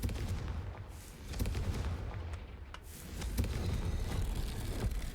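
The Confringo fire spell from Hogwarts Legacy goes off as a muffled game blast, followed by rumbling booms and crackling impacts that keep up a dense, continuous wash of noise throughout.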